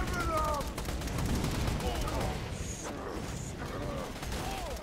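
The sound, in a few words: gunfire from a gun in the video game Borderlands 2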